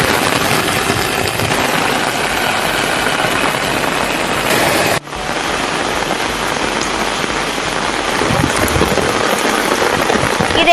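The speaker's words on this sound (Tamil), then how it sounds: "1 மணி நேரத்திற்கு மேலாக பெய்த மழை காரணமாக சாலைகளில் தண்ணீர் பெருக்கெடுத்து ஓடியது." Heavy rain pouring steadily onto roads in a Tamil Nadu town, a dense continuous hiss of drops hitting wet pavement, loud and unbroken apart from a brief dip midway, with a faint engine rumble underneath.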